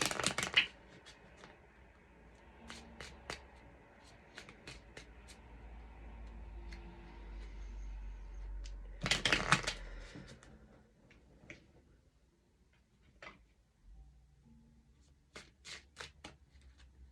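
An oracle card deck is shuffled in quick crisp riffling bursts, one loud flurry at the start and a longer one midway, with scattered card taps and handling sounds between them in a quiet room.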